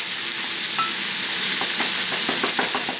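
Flatbread sizzling in a hot pan, with a steady broadband frying hiss and scattered crackles and pops that grow busier toward the end, and no talk.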